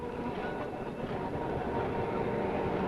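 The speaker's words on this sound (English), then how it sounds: "That sound of the first morning tram used to be a comfort all right then." Tram passing on a South London street in the 1950s, a steady, broad rumble of wheels on rails that stays loud and even throughout with no voices.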